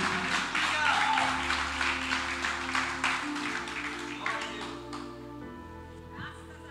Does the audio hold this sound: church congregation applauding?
yes